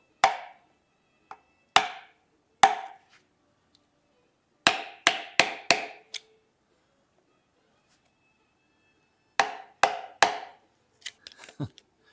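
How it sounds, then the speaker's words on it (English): Sharp metallic hammer strikes on a screwdriver in bursts of two to four, separated by pauses, close and loud with ringing decay, while removing a seal on a 1981 Ford F100. "Whoop on it with a hammer."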